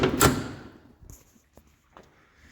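A door shuts in a house with a single solid thud at the start, followed by a few faint knocks and rattles in a quiet room.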